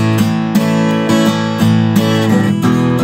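Guitar playing the chorus, bright strummed chords in a steady rhythm with sharp strokes roughly every half second, close and loud, no voices.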